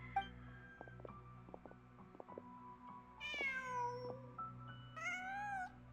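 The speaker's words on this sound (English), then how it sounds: "Just a cat." A cat in Genshin Impact meows twice, two drawn-out, clear calls in the second half, heard alone over a steady game soundtrack.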